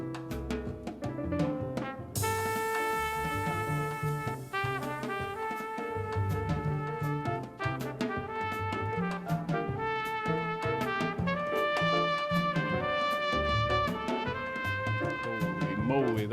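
A trumpet leads a jazz recording, its bright sustained lines entering over a Latin-tinged rhythm of drums, bass and piano, playing continuously and prominently.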